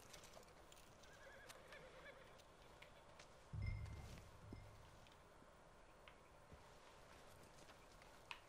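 A single horse whinny in Red Dead Redemption 2 breaks out midway through quiet ambience, followed by a faint thud; otherwise calm and low.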